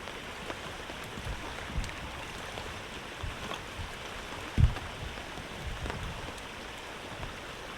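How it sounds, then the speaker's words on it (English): Heavy rain falling on a tarp beside a lake at a bivy camp, a steady soft hiss of drops close by with occasional heavier taps and thumps, faint and continuous without any voices. "just sitting under this tarp and listening to the rain"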